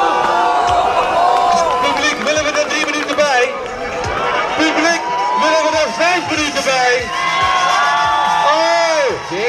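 Spectators at the 2014 Railbattle finals at Burnside Cablepark cheering, whooping and shouting loudly and close, a dense rowdy crowd roar with excited voices rising and falling throughout, mixed with people talking.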